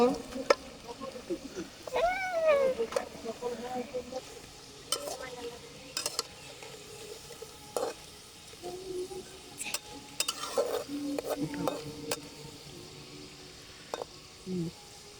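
Potato french fries sizzle in hot oil in a home kitchen while being stirred and turned, a steady crackling fry with scattered scrapes and clinks of the utensil against the pan, close and moderately loud.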